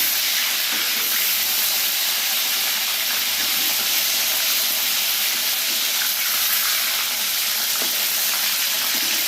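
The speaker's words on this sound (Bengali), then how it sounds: "এখন মুরগি ভাজা শুরু" Pieces of chicken sizzling in hot oil for a chicken roast, a dense continuous hiss that stays even and loud throughout, heard up close with no voices.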